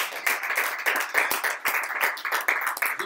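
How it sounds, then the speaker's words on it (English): A round of hand clapping from a small group on a live stream, soft and steady with a few sharper individual claps standing out over about three seconds. "So let's give a big round of applause."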